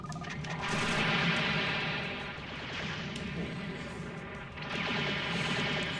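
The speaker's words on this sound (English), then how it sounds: "The machine gun makes quick work of things in close range." Rapid machine-gun fire in the mecha combat game Robotech: Battlecry, a dense sustained rattle of shots that swells and eases in waves, loud and close with no talking over it.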